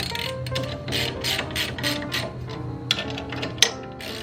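A hand ratchet snugs down ball joint bolts on a vehicle suspension, a steady run of fine rapid clicks with a couple of sharper metallic ticks near the end, close and fairly quiet.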